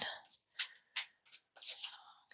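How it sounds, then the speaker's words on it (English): Tarot cards shuffled in a series of short, crisp riffles and flicks, each burst brief and close, with small gaps between them and a longer ruffle near the end. "Do a couple more shuffles here for the sign of Aquarius."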